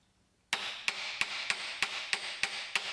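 A hammer taps down a custom engine mount on a Datsun 620 in a garage. Eight sharp metallic strikes land at an even, steady pace, close and loud, with no talking.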